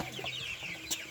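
Chickens clucking at a farm during morning feeding, a busy overlapping chorus of clucks and soft squawks close by, continuous through the short moment with no talking.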